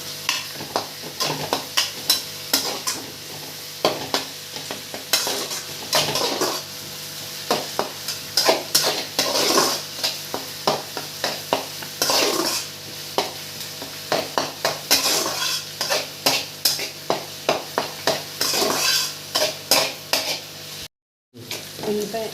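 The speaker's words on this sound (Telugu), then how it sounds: "ఉల్లిపాయ చక్కగా మగ్గిపోయిందండి." Onions sizzle and fry in a pan with coriander added, a steady hiss broken by frequent scraping stir strokes and metallic clinks of a utensil against the pan, with a brief dropout near the end.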